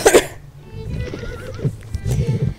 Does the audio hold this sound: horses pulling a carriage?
yes